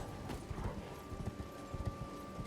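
A horse in the video game Elden Ring gallops with a quick, repeating hoof rhythm, faint and low under a sustained background tone.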